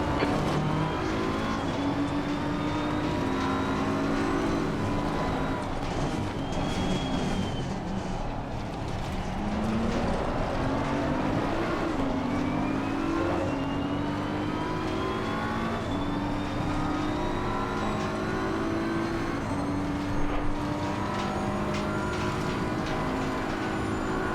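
GT3 race cars at Suzuka in Assetto Corsa Competizione, a loud onboard engine howling through rising and falling gears as the car laps, with other cars droning nearby and a steady roar throughout.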